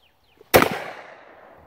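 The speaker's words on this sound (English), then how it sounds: "Let's see what it shoots like." A single blast from a Hatfield 20 gauge shotgun, loud and sudden after near silence, with a ringing tail that fades over about a second outdoors.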